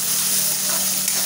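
Sliced large onions fry in a pan, giving a close, loud, continuous sizzle and crackle with no voices.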